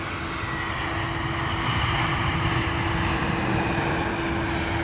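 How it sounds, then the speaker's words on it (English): A British Airways Airbus A321neo jet arrives at London Heathrow, its engines a steady, loud roar with a sustained drone, constant for several seconds. "British Airways A321neo."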